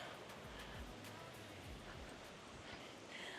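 Waterfall hidden below dense tropical forest on Grenada, a steady broadband roar of falling water that stays constant throughout, with faint low rumbling underneath and no voices.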